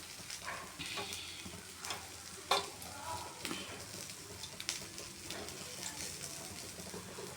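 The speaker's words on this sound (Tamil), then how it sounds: "எண்ணெய் நல்லா கொதிக்குது" Oil boils and sizzles in a cooking pan with a steady, crackling hiss and scattered pops, fairly quiet and continuous throughout.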